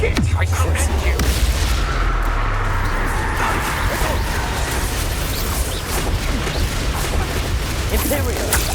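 A Confringo fire spell explodes in Hogwarts Legacy combat, a booming blast set among dense, continuous noisy battle sound effects that stay loud for the whole stretch.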